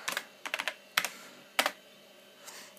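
Keys tapped on a computer keyboard at a vintage UNIX server console to log in as root, a few quick bursts of clicks separated by short pauses, fairly quiet and close.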